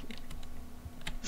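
Computer keyboard typed right beside a microphone during a Hungarian gaming session: a quick run of light plastic key clicks, close and fairly loud, ending in a denser burst of keystrokes.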